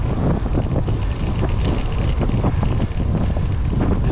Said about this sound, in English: And then we'll go underneath the Centennial and have lots more wind.